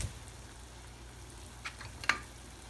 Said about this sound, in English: I'm just gonna saute these down until they start to get clear